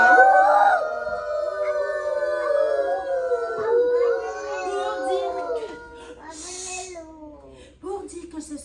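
Voices imitating a wolf howl in a long, wavering, drawn-out sustained cry, rising and sliding in pitch, with several voices overlapping, likely children joining in.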